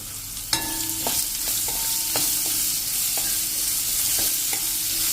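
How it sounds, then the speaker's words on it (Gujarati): Finely chopped medium onion sautés in oil over a low flame for a green chilli dish, giving a steady soft sizzle. A spoon stirs it with a regular series of sharp metallic clinks against the pan. "કાંદો આપણે એ થોડો એવો સાંતળી લેશું તેલમાં."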